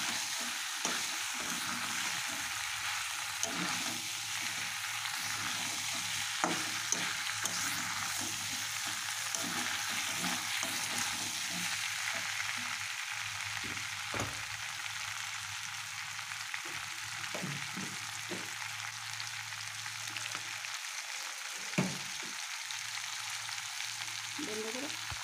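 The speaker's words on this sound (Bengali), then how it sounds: "যেমনি গাজর কুচানি ধনিয়া পাতা আরও দুই থেকে তিন মিনিট মতো ভালো করে কষিয়ে নিচ্ছি" Meat with young jackfruit, shredded carrot and coriander leaves sautés in a pan, a steady sizzle and fry broken by repeated scraping stirs, close and continuous with no talking.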